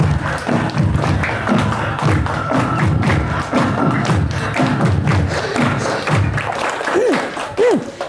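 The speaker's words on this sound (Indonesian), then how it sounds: "Tepuk tangan bareng-bareng" Children clap together in a lively group at a storytelling session, a dense run of thuds and claps lasting several seconds before easing off, with a voice heard briefly near the end.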